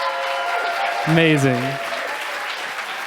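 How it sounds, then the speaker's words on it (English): An audience claps steadily throughout while a person briefly exclaims over the applause. "Everybody give a huge round of applause"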